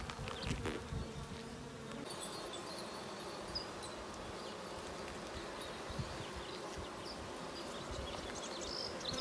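Honey bees drone in an open hive during a three-week inspection, a steady, dense, close buzzing that carries on alone without pause.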